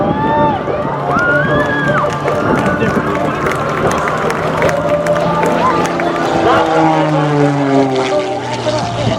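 An aerobatic propeller airplane flying an inside tumble at an airshow, its engine whining and wavering in pitch as it maneuvers, with a loud announcer talking and crowd noise throughout.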